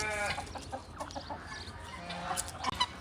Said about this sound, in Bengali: ওই যে ওইটা হচ্ছে পাহাড়ি মোরগ